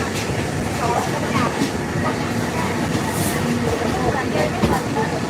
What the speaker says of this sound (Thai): รถไฟนำเที่ยว